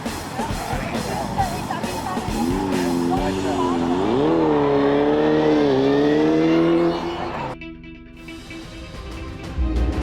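On a road in North Wales, motorbikes pass close by. A loud engine note rises and falls through a long pass before dropping away, and a voice talks over it.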